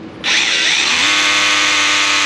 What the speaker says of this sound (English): I'll probably drill it out first